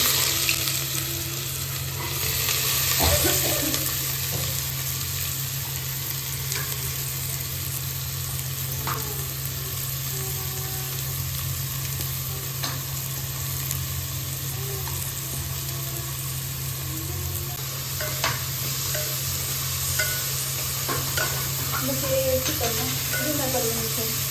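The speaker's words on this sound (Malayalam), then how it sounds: "നമ്മൾ എഗ്ഗ് ഫ്രൈ ചെയ്ത് ഇനി നമ്മൾ ഇതിൽ ഒനിയൻസ് ഇട്ട് ഫ്രൈ ചെയ്യാൻ പോവാണ്" Onions fry in a pan just used for frying eggs, with a steady loud sizzle throughout and occasional stirring scrapes and clicks, under a constant background hum.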